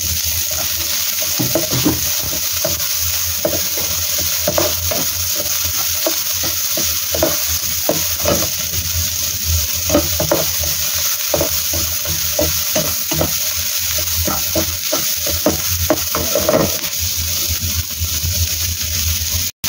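Onion and the white part of spring onion stir-fried in a pan for green peas with mixed seafood, a continuous sizzle with frequent rhythmic scrapes and taps of a spatula, close and loud, no talking.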